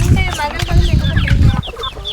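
Hens clucking on a poultry farm, several birds close by in short, irregular bursts over a steady barnyard murmur, with background talk running underneath.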